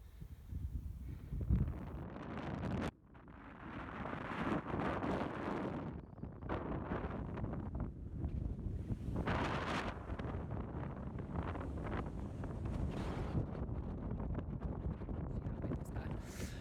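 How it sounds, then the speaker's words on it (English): Strong wind buffets the microphone on the hilltop at Sheeps Tor, a steady loud roar throughout with gusty swells and one brief drop, and a voice speaking faintly beneath it. "It was really busy and really flipping windy."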